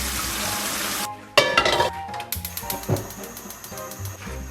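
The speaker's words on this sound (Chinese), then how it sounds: "咱们把这个排骨捞出，然后用温水给它冲洗干净" Pork ribs are rinsed under warm running water. A second of steady hissing flow gives way to irregular clattering and knocking of the ribs being handled in a bowl or pot.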